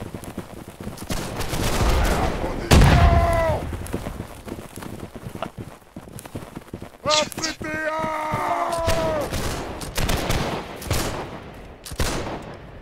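Muskets fire in the Napoleonic-era game Holdfast: Nations At War, with scattered cracks and a rippling volley under a busy battlefield din, while players talk and shout.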